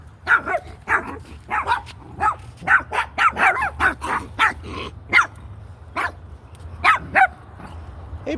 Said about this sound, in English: Two puppies. Two of them.